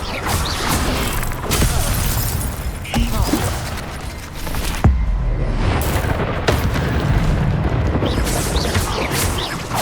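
Fiery bursts and magical whooshes from an Incendio fire spell cast in Hogwarts Legacy during a spider fight, several loud impacts and crackles over a busy combat soundscape, with a voice calling out spells.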